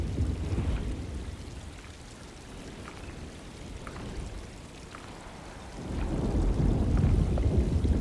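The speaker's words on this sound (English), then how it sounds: "Looks like a storm's coming." Steady rain hisses through a thunderstorm in the Alone in the Dark 2024 video game, with soft drop ticks and a low rumble that swells louder near the end; no voices.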